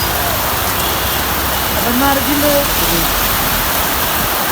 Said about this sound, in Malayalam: നല്ല മഴ തുടങ്ങി